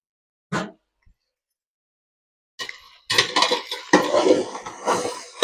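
Veg manchurian is stirred with coriander in a pan: one short clatter, a pause of near silence, then a run of scraping and clinking of a spoon against metal, close and moderately loud.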